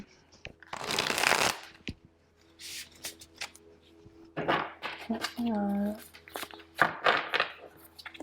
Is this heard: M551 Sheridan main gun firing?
no